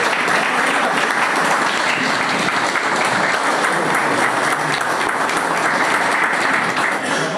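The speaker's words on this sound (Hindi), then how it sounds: "तालियों से स्वागत करें" Loud, sustained applause from a crowd at a one-day workshop, welcoming a guest; dense clapping that carries evenly from start to finish.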